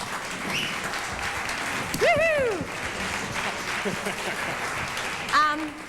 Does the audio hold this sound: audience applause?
yes